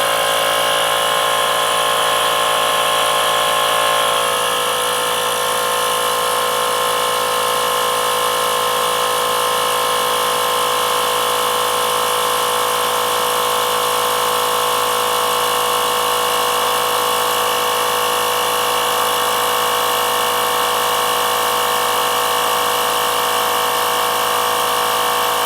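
A Mellif cordless tire inflator air compressor, powered by a Dewalt 20V Max battery, runs steadily and loudly up close with a constant buzzing motor drone and no voices.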